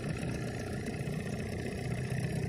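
Steady, continuous motor drone from a Maxi 95 sailboat's engine, running evenly and fairly close throughout, with a broad rumbling, clattering texture and no talking over it.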